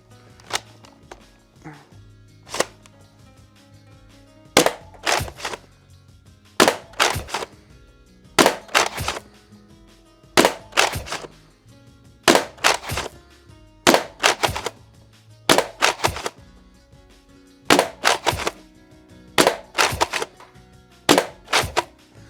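Nerf Siren blaster at maximum power firing worn foam darts: sharp, loud cracking shots in quick pairs and clusters, repeating at roughly regular intervals over a quiet background.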